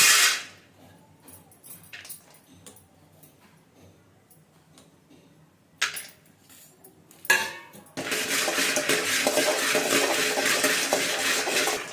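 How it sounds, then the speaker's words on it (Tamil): Peanuts dry roasting in a pan for a traditional village-style mixed-grain laddu, with intermittent scraping and rattling of stirring, then a steady dense rattle of nuts tossed against metal toward the end. "நெக்ஸ்ட் வேர்க்கடலை வறுத்து."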